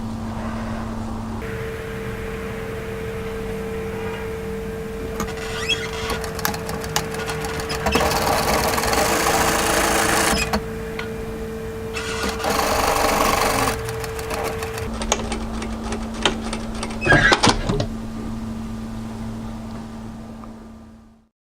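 A sewing machine edge stitching kaftan fabric runs in several bursts of rapid mechanical whirring, separated by quieter pauses with a low hum, close and fairly loud.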